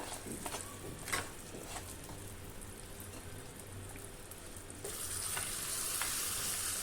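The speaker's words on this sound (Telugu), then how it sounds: "ఈ తాలింపు అంతటిని మనం ముందుగా రెడీ చేసి పెట్టుకున్న వంకాయ పులుసులో వేసేసుకుందాము" Tempering fried in oil is poured into a pot of brinjal curry, a close, steady sizzle with stirring scrapes, growing brighter and louder toward the end as the hot oil hits the liquid.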